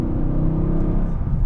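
Loud, close engine roar from a manual-swapped Mercedes C63 AMG V8 holding high revs, a dense continuous rumble with slight fluctuation and no pauses.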